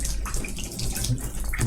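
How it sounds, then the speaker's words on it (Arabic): Water pours and splashes steadily during a ritual washing of a deceased body, close and continuous, with a few faint words in the background. "الماء"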